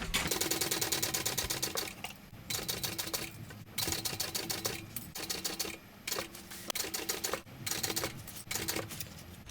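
A sewing machine stitches a full seam allowance on an Isabella bag, running in loud, steady rhythmic bursts of rapid needle clatter that break off with brief pauses between runs.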